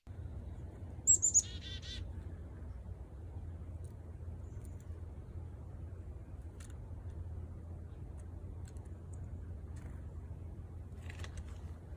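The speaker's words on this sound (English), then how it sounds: "a video that I actually took myself several years ago with a chickadee coming" A chickadee gives a couple of short high calls at a feeding platform outdoors, faint and spread over a steady low rumble of background noise, with a few other soft chirps later on.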